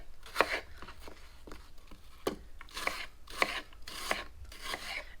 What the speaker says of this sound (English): I'm going to finish slicing all of these